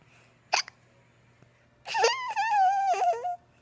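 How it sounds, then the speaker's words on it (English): A young girl hiccups once sharply, then a longer, wavering, whiny vocal sound follows, close and fairly loud against a quiet room. "Hiccups."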